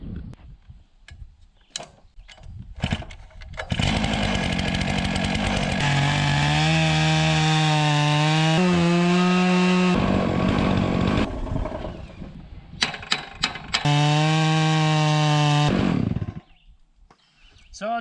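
A chainsaw on a Logosol mill rips through a log to cut boards. The engine is loud and close, with a sustained high whining drone that shifts pitch under load. It cuts out, then revs back up for a second stretch.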